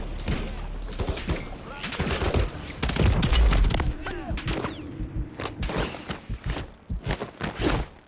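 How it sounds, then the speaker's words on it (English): Rapid gunfire from Call of Duty Modern Warfare 3 on PS5 during a prison breakout mission, loud bursts and scattered shots with heavy thuds, spread across the scene. "Who's shooting me? Who else is shooting at me?"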